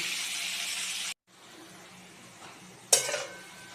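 Onions fry toward reddish-brown in a pan for Bengali mutton kosha, a steady close sizzle that cuts off abruptly, then returns as quieter stirring with a sharp metallic clink of utensil on pan near the end; no voices.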